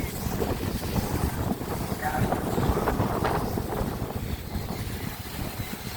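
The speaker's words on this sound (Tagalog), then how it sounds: "Lakas ng hangin" Strong wind buffets the microphone with a constant, rough roar that rises and falls slightly, heard outdoors on a street in Divisoria, Manila, without speech.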